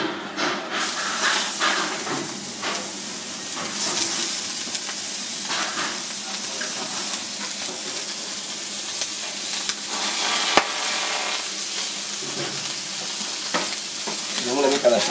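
Baby squid fry in hot oil in a pan on a stove, a loud steady sizzle and hiss that runs unbroken throughout with small crackles and a brief knock midway.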